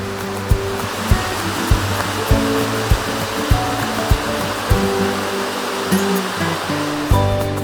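Water rushes steadily where the Arroyo de las Truchas joins the Río Borosa in Cazorla, a loud, constant roar with regular soft thuds spaced about half a second apart.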